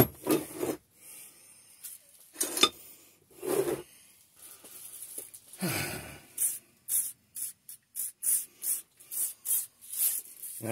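Degreaser being sprayed onto a cast steel vise and scrubbed clean, with quiet rubbing and wiping early on, then a rapid run of short, sharp spray hisses close by toward the end.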